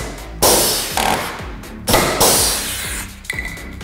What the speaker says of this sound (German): Wir haben pneumatisch betriebene Nietezangen.